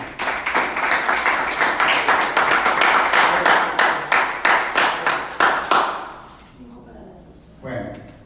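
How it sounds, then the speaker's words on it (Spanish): A church congregation claps together in a strong, even rhythm that gradually slows and fades out. Applause and murmuring fill the clapping, and a voice speaks briefly once it dies away. "un aplauso al Señor"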